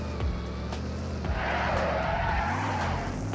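A car drifts in the video game Car Crushers, its tyres skidding in a loud, sustained screech that swells in the middle and fades, with engine hum underneath and no talking.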